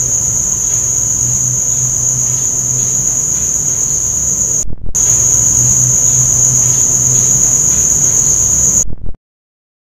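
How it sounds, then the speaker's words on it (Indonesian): Crickets keep up a loud, steady, shrill chirping through the night in an abandoned office, with a faint low hum underneath and a brief cut partway through before it stops abruptly. "Ya udah, cuman suara jangkrik aja gitu."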